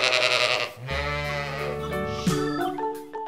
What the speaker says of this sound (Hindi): शिप मीन्स भेड़।